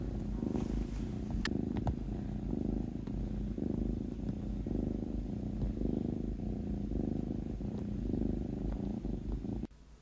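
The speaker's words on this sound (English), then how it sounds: "This one of her purring." A foster kitten purrs steadily and close up, a soft continuous rumble pulsing with each breath, with no talking.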